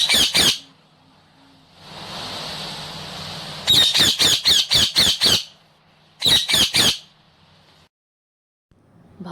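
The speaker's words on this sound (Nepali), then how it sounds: "सुगा" A parrot gives loud, harsh squawks in two quick bursts of several calls each, close by, separated by a hissy stretch and short silences.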